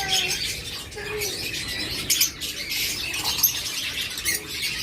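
Caged pet birds, pairs of red-eye and black-eye birds, give short high chirps and squawks scattered over a soft background, with a few sharper calls standing out, fairly close and without talk.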